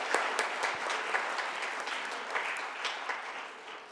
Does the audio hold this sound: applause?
yes